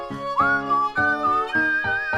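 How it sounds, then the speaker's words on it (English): Whistling, said to come from pine cone fairies in a mossy pine forest: a sliding, wavering whistled tone runs steadily through the clip, over repeated rhythmic plucked or tonal notes, with no talk. "Oh, they are whistling."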